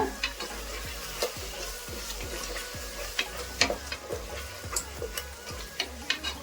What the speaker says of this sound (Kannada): ಇವಾಗ ಹಸಿ ವಾಸನೆ ಹೋಗೋವರೆಗೂ ಚೆನ್ನಾಗಿ ಫ್ರೈ ಆಗಿದೆ.